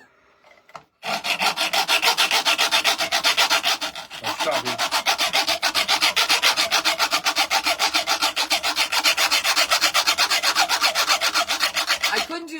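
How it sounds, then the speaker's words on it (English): Hacksaw-style sawing on a vintage cheese grater, a loud, steady back-and-forth rasping in quick, even strokes that runs for about twelve seconds after a short pause, with a brief murmured phrase at the start. "Oh, you're going to do a hacksawish thing."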